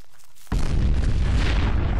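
An orbital cannon strike in the Garry's Mod video game, a sudden heavy boom that breaks out of near silence and rolls on as a loud, rumbling blast.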